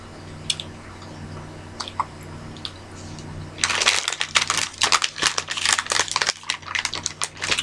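Gummy shark candies are chewed close to the mic, first a few soft isolated smacks, then a dense run of wet, sticky chewing and squishing for the last few seconds, with no talking.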